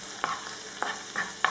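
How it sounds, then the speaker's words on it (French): Garlic sizzling gently in olive oil in a pan for squid, with four distinct utensil strokes against the pan at uneven intervals over a soft constant fry, close by. "je vais faire revenir mon ail avec un peu de l'huile d'olive"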